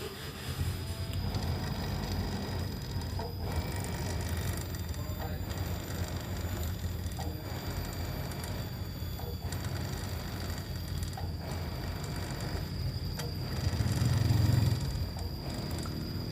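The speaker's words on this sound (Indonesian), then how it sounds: "Setelah ini tadi kita tiup, otomatis motor akan jalan ya." Motor of a single-tub washing machine running steadily, a continuous low mechanical hum with faint rhythmic clicking and rattling, close and even throughout, swelling slightly near the end.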